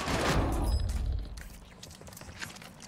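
A loud burst of gunfire rings out on Ashika Island in Call of Duty, a heavy blast-like crack in the first second, then fainter scattered shots echoing in the distance.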